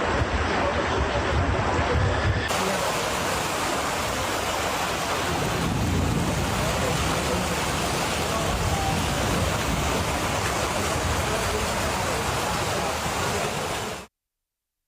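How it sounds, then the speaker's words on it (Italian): Flooded little stream running along a narrow street during overnight storms, a steady broadband rush of water that stays loud and close for about fourteen seconds with wind buffeting the microphone, no voices. "piccolo fiume in piena che scorre"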